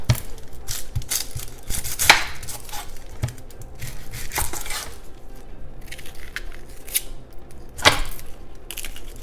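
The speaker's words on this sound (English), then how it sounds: "I am going to go ahead and clean and cut my carrots and my onion" A knife chops carrots and onion on a board, with a few sharp, separate cuts spread over the quiet stretch amid light handling noise.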